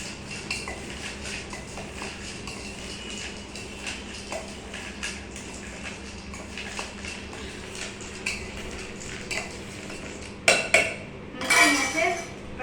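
Salt and chili powder get stirred together in a bowl, making light scraping clinks of a spoon against the dish, with a few louder metallic knocks near the end.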